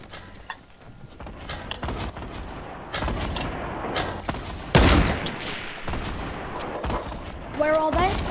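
Rapid gunfire from a battle royale video game, sharp cracks and bursts scattered throughout with one loud shot near the middle, mixed with game effects and voices talking over it.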